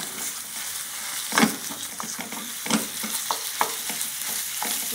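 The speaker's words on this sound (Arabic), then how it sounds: "بعد ما نزلات البصله ديالنا البنات غنضيفوا الكفته" Minced kefta frying with softened onions in a little oil sizzles steadily in a pan, broken by repeated spatula scrapes and stirring knocks, close and without talk.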